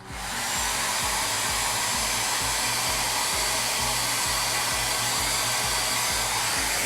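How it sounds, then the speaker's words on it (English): A hair dryer starts up and blows steadily at close range, a loud continuous rushing whoosh over a low motor drone with faint regular pulsing, used for drying chalk work on a craft project. "I'm gonna go ahead and hit it with my hair dryer."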